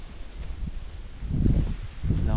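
Gusts of wind push through string bean vines on a bamboo trellis in uneven surges, rustling louder midway and again near the end, with some low wind buffeting on the microphone.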